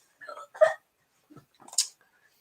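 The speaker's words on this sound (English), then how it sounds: "you sound squeaky when you hiccups" Several squeaky hiccups come from a person close to the mic, short sharp bursts with gaps between them in an otherwise quiet setting.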